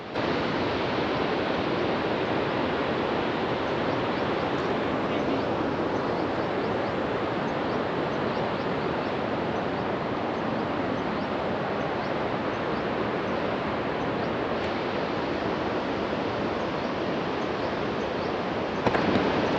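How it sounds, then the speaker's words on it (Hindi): Loud, constant rushing water from a fast glacier meltwater stream near Fairy Meadows, Pakistan, a steady roar with no pauses, heard up close. "ये जो आपको पानी का शोर सुनाई दे रहा है, ये सारा पानी ग्लेशियर से आ रहा है।"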